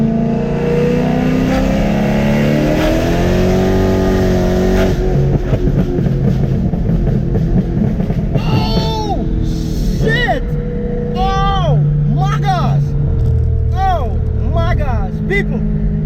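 A BMW E92 M3 fitted with a Gintani straight pipe exhaust revs hard to about 6000 rpm, a loud, raspy engine roar rising and then falling in repeated sharp blips, recorded up close.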